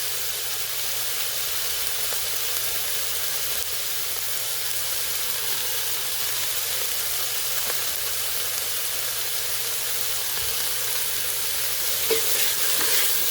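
Vegan cauliflower fried rice with chopped green onion being stirred in a pan: a dense, even sizzle holds steady throughout, with faint stirring scrapes underneath and no talking.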